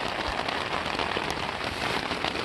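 Steady rain drums on the hard shell of a Freespirit Recreation Adventure Series rooftop tent, a dense continuous patter heard from inside, close and even throughout with no talking.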